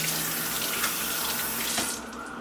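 Tap water runs steadily into a sink while cactus leaves (nopales) are washed under it, a close, continuous splashing rush that eases slightly toward the end.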